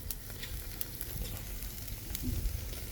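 Beef, with eel nearby, sizzling steadily on an outdoor grill. The frying crackle is faint and continuous, with small pops scattered across a low background rumble, and no one speaks.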